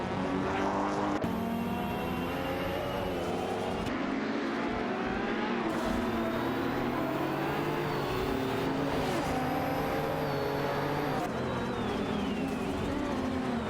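Race cars roaring around a track in a racing video game, engines droning continuously with shifting pitch as cars accelerate and pass, loud and steady with abrupt cuts between shots.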